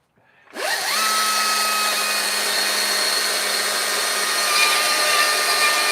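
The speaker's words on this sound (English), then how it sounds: "Use air, blow it out." Compressed air blasts debris out of a chainsaw-carved wooden eagle: a sudden, loud, steady high hiss with a tonal whine that starts abruptly and runs continuously, close up, with no voices.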